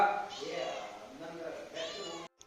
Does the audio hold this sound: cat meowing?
yes